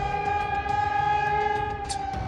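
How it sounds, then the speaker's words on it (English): A steady, loud civil defense warning siren in Poland wails with a sustained droning tone, sounding alone without any voices. "Across Poland, warning sirens echoed through multiple regions"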